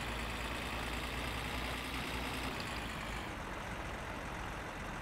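A truck engine runs steadily in the driving game My Summer Car, a dense continuous rumble that stays loud and even with no talk over it.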